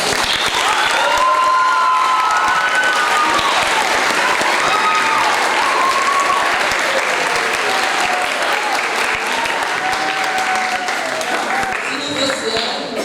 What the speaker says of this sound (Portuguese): chamar de salva de palmas para ela